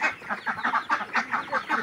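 Ducks and pigeons at feeding time keep up a busy run of short, repeated calls and clucks, close by and steady in rhythm, with no talking.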